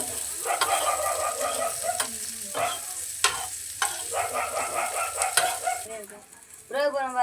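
Chopped onions hiss and sizzle in a hot pan, with a steady frying crackle, repeated stirring scrapes and a brief pause near the end.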